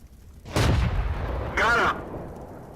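Tank cannon fire from a British Comet tier 7 medium tank in World of Tanks, two heavy booming shots about a second apart, loud and close, each with a rumbling tail.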